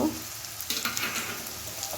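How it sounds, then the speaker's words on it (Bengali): Garlic paste fries with onion and green chillies in a pan for a meat and potato curry, a faint, steady sizzle with gentle stirring scrapes in the middle. "লঙ্কা রসুন ও পেঁয়াজ ভালোভাবে ভাজা হয়ে গেছে"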